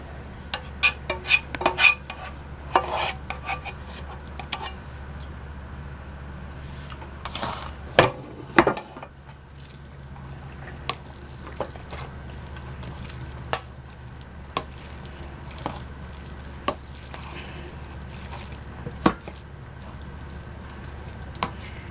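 Meat and vegetable mixture from food storage being mixed with rice in a bowl: scattered soft clicks, scrapes and occasional sharper utensil taps, close and mostly quiet, with no talking.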